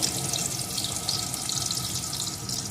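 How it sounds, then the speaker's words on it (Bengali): Potato pieces fry in hot oil in a pan, making a continuous dense hiss and sizzle that stays loud and close throughout with no talking. "এখন এই আলুটাকে একটু ভেজে নেব আলুগুলো একটু ভেজে নিয়েছি"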